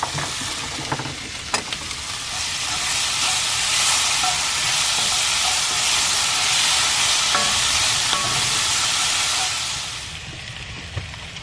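Softened peppers and onions sizzle in a pan with freshly added beans while dinner is cooked at an RV campsite in Leadville, Colorado. A steady, loud frying hiss runs throughout, with a few utensil clicks and stirring sounds and no talking.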